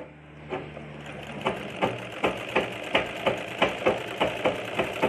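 A sewing machine stitching a churidar top sleeve makes a steady, evenly spaced mechanical clacking, close and moderately loud, with a low whirring hum underneath.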